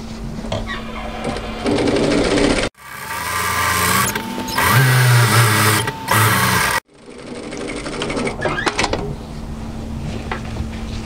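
Sewing machine stitching an apron strap in close, steady motor bursts, pausing abruptly twice to pivot the fabric before running again.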